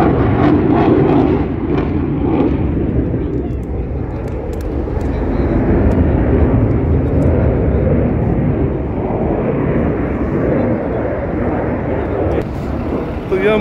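An aircraft engine at the Dubai Air Show 2021 gives a steady, loud, broadband roar that holds through the whole stretch, with voices faintly mixed into the noise.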